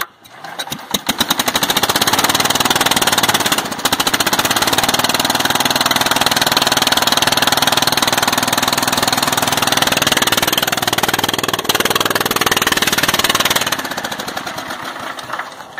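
A 1966 Kohler 12 hp small engine on a cold day, choke fully on, catches after a brief crank and then runs loud and steady close by, with a harsh, knocking mechanical chatter and one short dip partway through.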